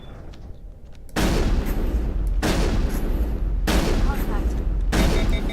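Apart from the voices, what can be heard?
gunfire in the video game Mass Effect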